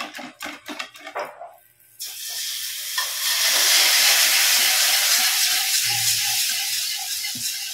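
Cassava cake mixture of flour and cassava simmers in a pot, a steady loud hiss and bubbling sizzle that takes over after a few clattering stirs and holds evenly to the end.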